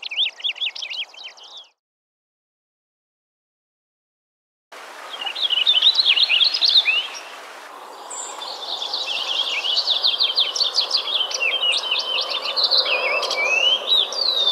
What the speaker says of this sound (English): Unrepeated phrases and long veer notes of the house finch.